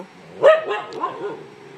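A dog barks outdoors at another dog nearby, one sharp, close bark followed by a softer second yelp, then quiet.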